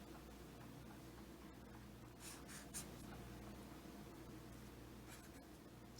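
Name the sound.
writing formula by hand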